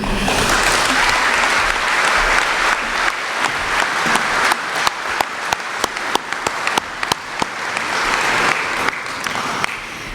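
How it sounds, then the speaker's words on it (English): A graduation audience applauds the valedictorian at Odyssey Charter Junior Senior High's Class of 2022 ceremony, with loud, dense clapping that thins into sharper individual claps toward the end. "Please give another huge round of applause to Kaylee Abramovs"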